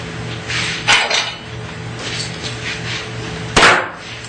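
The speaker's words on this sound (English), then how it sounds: "Let me clamp this down." Plywood is clamped down on a Shopsmith woodworking machine, giving a few sharp knocks and clanks of metal clamp against wood, with two louder hits standing out from the steady shop hum.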